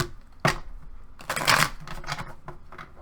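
Tarot cards shuffled up close in a few distinct riffling bursts, a sharp slap early and a denser, louder flurry in the middle, without any talking.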